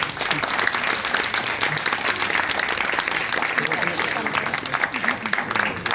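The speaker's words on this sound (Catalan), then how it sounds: "Un aplaudiment." A poetry reading audience for World Poetry Day breaks into sustained, dense applause, with many hands clapping steadily and evenly throughout.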